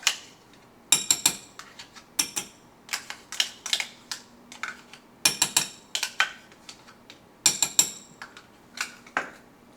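Chocolate cupcake batter with sour cream stirred by hand, a utensil clicking and scraping against the bowl in bursts of quick, irregular taps with short pauses between.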